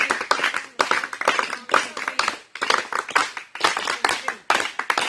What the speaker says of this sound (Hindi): 1 2 1 2 3 तालियां बजा के